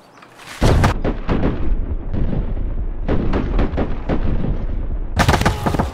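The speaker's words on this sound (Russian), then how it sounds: "Он из леса стреляет." Loud gunfire in Escape from Tarkov rings out in rapid bursts and overlapping shots, with sharp cracks and booming echoes rolling on for several seconds.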